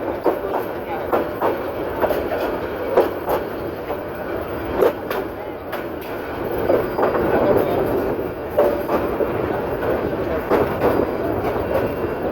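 Titas commuter train rolling into platform 1 at Brahmanbaria railway station, a steady rumble of wheels with repeated clacks over rail joints, loud and close and continuous.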